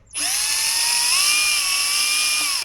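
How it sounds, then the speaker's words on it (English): A power drill whines loudly at high speed, starting abruptly, holding a steady pitch with a slight rise partway through, then stopping. "I'm going to try and see if I can just drill into the middle here"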